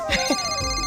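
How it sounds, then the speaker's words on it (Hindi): A phone rings indoors, its bright electronic ringtone sustained and fairly loud throughout the brief moment while a voice talks over it. "आपका फोन है?"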